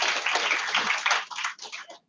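Applause at a staff meeting, a burst of many hands clapping close and fairly dense that thins into scattered claps before fading to silence; the sound is thin and narrow, as if over a small speaker or a call.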